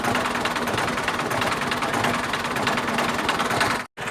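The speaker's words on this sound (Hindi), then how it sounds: "अभी मैं चलाऊंगा ट्रैक्टर भाई से पूछ के" Tractor engine idling and running, a steady loud low diesel rumble with knocking throb that holds throughout before a brief cutout near the end.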